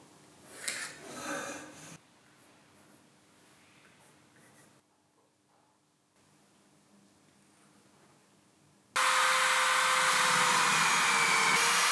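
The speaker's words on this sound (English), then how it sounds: "I'll sand the inner parts now that it's more convenient," Quiet scraping and rubbing sounds on a wooden workbench, then a power sander abruptly starts up with a loud, steady high-pitched whir that continues to the end.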